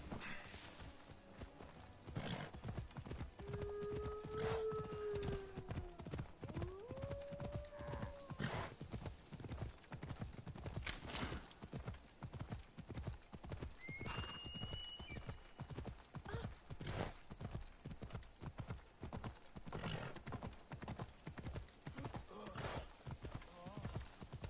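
Horse hooves clip-clop steadily throughout a scene in the video game Assassin's Creed Odyssey, with several distinct neighs and whinnies rising above the rhythmic footfalls; a voice talks intermittently over it.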